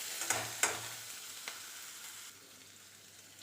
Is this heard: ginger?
yes